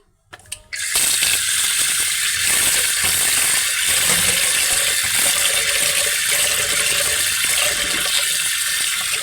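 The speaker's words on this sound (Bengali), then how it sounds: "মুসুরির ডালটা দিয়ে ঝিঙের ডালটা করব আর কি। চলো এটা ধুয়ে নিই।" Masoor lentils being rinsed under running tap water in a home kitchen sink, a steady close rushing stream with faint rattling of the grains, alone without talk after a brief start.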